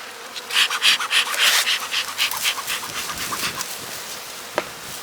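Honeybees buzzing at a beehive, a close, fluctuating swarm hum rising and falling in uneven pulses, with a brief sharp click near the end.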